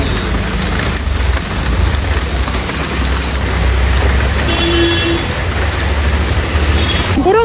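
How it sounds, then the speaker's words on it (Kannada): Heavy rain pours steadily in a dense, loud hiss with a low rumble underneath, continuous throughout, while a voice calls out briefly once. "ಮಳೆ ನೋಡಿ ಜೋರಾಯ್ತು"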